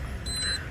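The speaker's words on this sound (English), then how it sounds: "this flasher comes with a buzzer" The buzzer on an LED indicator flasher relay in a Maruti Gypsy gives a brief thin high-pitched beep lasting under half a second over a low background rumble, with no talking.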